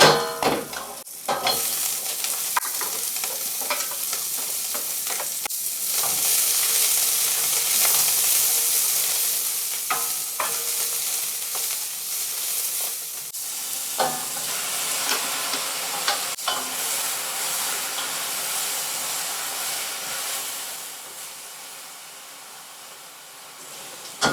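Garlic and parsley stirred into a sizzling fish soup in a pot, giving a steady frying hiss and bubbling with occasional scraping stirs throughout.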